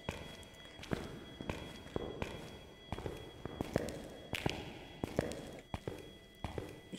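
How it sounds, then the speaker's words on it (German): Ghost footsteps in the game Phasmophobia on the Sunny Meadows map: a steady series of thudding steps, roughly one or two per second, fairly close and clear over a low ambient hum. "Ich höre Schritte hinter mir."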